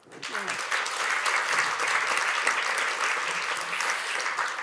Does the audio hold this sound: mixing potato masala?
no